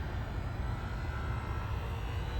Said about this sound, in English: You can hear a little bit of a whir in here. That's just the fan working its magic.